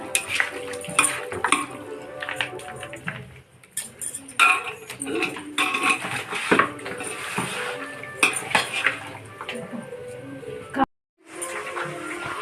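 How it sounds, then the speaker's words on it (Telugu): Ginger paste mixed into chicken biryani ingredients in a heated pan, uneven clanks and scrapes of a metal spoon against the pan with brief pauses and light sizzling, a voice occasionally speaking. "అల్లం పేస్టు మొత్తం ఈ విధంగా కలుపుకోవాలి"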